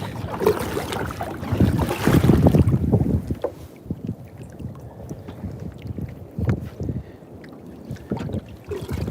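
A kayak back-paddles on open water. Loud splashes and wind rumble come first, then softer rhythmic paddle strokes and water lapping close to the microphone, with no talking.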